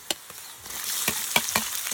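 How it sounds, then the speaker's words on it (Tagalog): Flaked fish being sautéed in a pan with garlic and onion, a steady close sizzle with a few sharp scrapes and clinks of a utensil stirring, and no voices. "Gisahin lang po muna natin ito."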